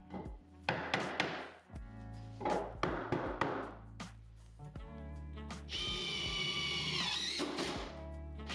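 Power drill driving a couple of screws to fix a cabinet into a small-shop workbench: several short whirring bursts with thunks between, then a longer, steady drive near the end.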